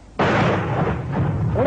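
Wartime artillery fires on a shouted command, a heavy blast that erupts suddenly and rolls on as a loud, sustained rumble, with voices faintly under it.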